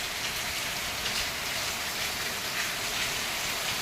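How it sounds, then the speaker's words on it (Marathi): Heavy rain pours down in a dense, unbroken hiss, loud and constant with no other sounds. "घरातून बाहेर निघालो आणि बघा जोराचा पाऊस आला हा"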